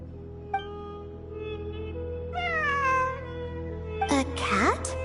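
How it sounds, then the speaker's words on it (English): Several cat meows from Genshin Impact sound out in a quiet game scene over a steady low background hum, with a single short call near the start, a longer rising-falling meow midway and a sharper burst of cries at the end. "It really is a cat."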